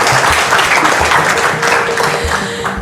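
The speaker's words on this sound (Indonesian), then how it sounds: "Tepuk tangan jangan sendirian" Audience applause fills an Indonesian direct-selling business seminar, a dense, steady wash of many hands clapping at full strength for about three seconds, with no voices over it.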